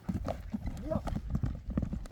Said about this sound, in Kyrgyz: Атты чуркатчы.